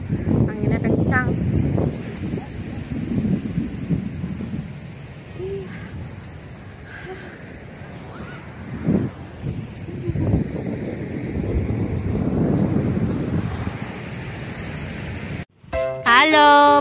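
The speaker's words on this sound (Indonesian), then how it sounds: "anginnya kencang" Strong wind at Lampuuk beach buffets the microphone with a steady rumble throughout, while people talk close by.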